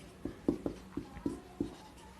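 Chalk or marker taps and strokes on a board during a maths lesson, about six short distinct knocks in an irregular rhythm, close and fairly quiet with no talk.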